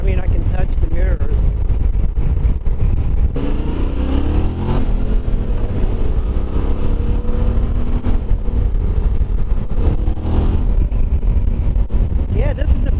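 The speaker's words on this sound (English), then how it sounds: "this is the first time riding the Tenere 700 after all this time of hearing about it" A Yamaha Tenere 700 motorcycle being ridden, its steady engine drone and wind noise running continuously throughout, loud and close, with a rider talking over it.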